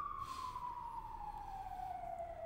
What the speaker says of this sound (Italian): si sente l'ambulanza, sì.